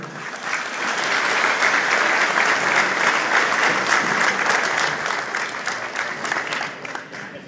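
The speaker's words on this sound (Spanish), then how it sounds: "pido un fuerte aplauso" An audience at a public works prioritization event in Teopisca, Chiapas, Mexico breaks into sustained applause, a dense wash of clapping that swells and holds, then fades slightly at the end.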